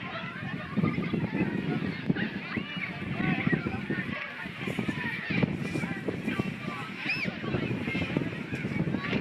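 Strong wind buffets the microphone in a steady, loud roar with gusty rumbling throughout, alone and without talk.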